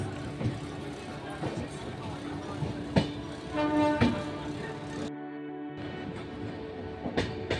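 A passenger train pulls out of Howrah station with a low rumble, rattling carriages and a few tonal horn blasts. Faint background voices sit under the rumble, which stays fairly close and continuous.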